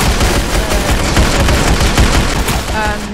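Dense rapid gunfire in a Roblox gun game, continuous overlapping shots and bursts, loud and close throughout.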